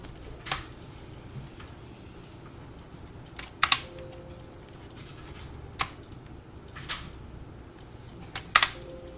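Sparse keystrokes on a computer keyboard at a desk: scattered, fairly quiet clicks with a few brief clusters of taps over soft room noise.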